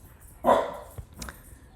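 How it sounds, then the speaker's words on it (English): A dog gives one sharp bark close by in a quiet room, followed by a couple of softer, brief yips. "Sorry about my dog."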